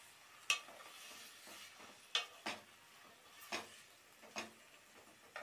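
Minced keema being stirred in a pan with a spoon, producing faint intermittent scraping and clinking strokes spaced a second or so apart over a quiet background.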